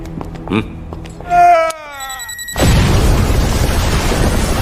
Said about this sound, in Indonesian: di mana Kapten Suj, Ling, dan Barno berada, bom yang terpasang pada tubuh Kapten Suj meledak.